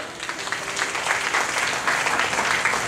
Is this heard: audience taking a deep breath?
no